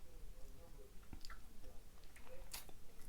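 Chewing gum is worked in someone's mouth at very close range, making faint, soft, wet smacking and squishing sounds in a quiet room.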